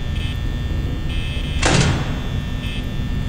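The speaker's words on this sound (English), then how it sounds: "Okay, so I've been closing this door for no reason." The security office door in Five Nights at Freddy's shuts with a single short, loud mechanical slam halfway through, set against a steady electrical hum and faint periodic beeping.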